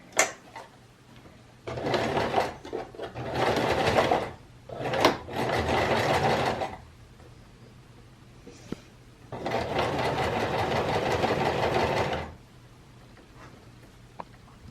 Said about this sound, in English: I'm going to edge stitch. So I'm going to insert my needle in very close to the edge.